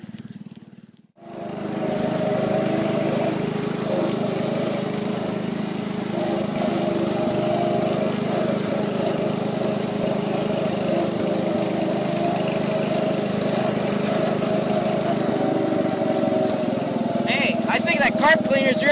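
A John Deere 210 lawn tractor engine runs close by with a steady, continuous mid-pitched drone after a brief start-up dip, its carburetor treated with carb cleaner, with no clear speech over it.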